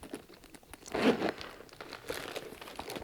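Crinkly plastic rustling with a louder burst of crumpling about a third of the way in, then lighter crackles continuing close by.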